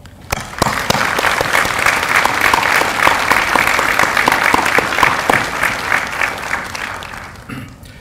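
Audience at a university health sciences and pharmacy white coat ceremony applauds families, partners and friends: dense, steady clapping from a large crowd, loud and sustained for several seconds before tapering off near the end.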